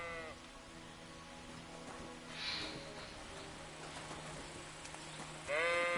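Sheep bleating in a video game, a few wavering bleats, one near the start and a louder one at the end, over a quiet ambient backdrop with faint insect-like buzzing.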